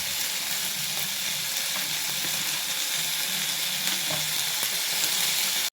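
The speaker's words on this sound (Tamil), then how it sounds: "எல்லாத்தையுமே ஆட் பண்ணி வதக்கிடலாம்" Onion, chili, garlic, ginger and coconut sauté in a pan for an idli chutney, giving a loud continuous sizzle with faint stirring scrapes and no talking.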